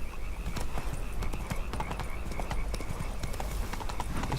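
Horse hooves clip-clop steadily on the ground in The Witcher 3: Blood and Wine, a fast, even trotting rhythm that is close and clear and runs throughout over a low background of game ambience.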